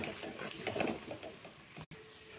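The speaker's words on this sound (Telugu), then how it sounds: "కొంచెం నెయ్యి ఈ నేతిలో బాగా కలుపుకోవాలి." Wheat flour and palm jaggery halwa is stirred in ghee in a pan, giving a soft continuous scraping and gentle sizzle, faint and steady, with a brief dropout near the end.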